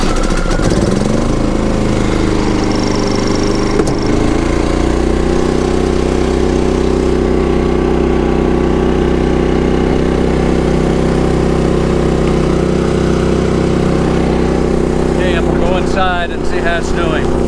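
A gasoline-fueled generator at a national park campground runs steadily during a test run, giving a loud, constant engine drone with a low mechanical hum throughout.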